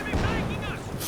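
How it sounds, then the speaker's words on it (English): Artillery concentration barrage in the real-time strategy game Company of Heroes 2, a dense run of booming impacts and rumbling blasts across the whole moment, loud and continuous with a commentator's voice over it. "Concentration barrage coming in."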